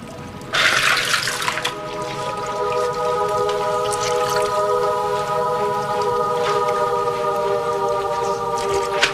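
Water pours steadily from a tap into a filling tub, a continuous splashing rush with a faint ringing tone throughout.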